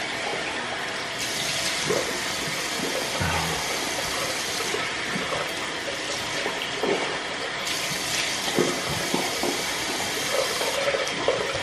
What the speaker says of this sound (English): I turn it all the way cold and I wash it with really cold water